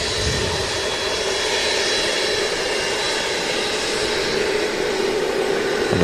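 A huge long-haul jet inbound from Dubai at Manchester Airport, its engines a steady, broad roar that holds at a loud, constant level throughout, with no voices over it.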